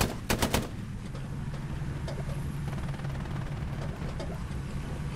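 A quick burst of distant gunfire in the Hell Let Loose war game, three or four sharp shots at the start followed by a low, steady battlefield rumble with faint scattered shots.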